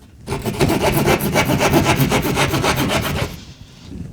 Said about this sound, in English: keep your saw straight up and down, and then just saw over to the ceiling joist